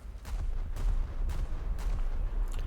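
Heavy gunfire from the main turrets of the British warship Renown in a naval video game, with repeated booming shots in a loose rhythm over a low rumbling background.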